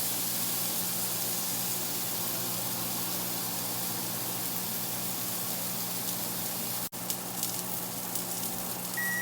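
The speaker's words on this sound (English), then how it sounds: "Cast iron's good and hot, about ready to go. So we're going to throw this steak on there." A T-bone steak sears on a hot cast iron skillet with a steady, close sizzling hiss that holds evenly throughout, broken only by a brief dropout near the end.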